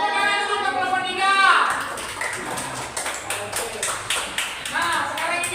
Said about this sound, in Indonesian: Tepuk tangan dulu ke kelompok 3.